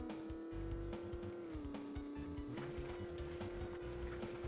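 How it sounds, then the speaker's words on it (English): A video game car's engine drones steadily with a sustained tonal whine, shifting pitch during a handbrake drift turn on dirt, with rough tire noise underneath. "I'm trying to do like a handbrake drift turn, and it's just not panning out"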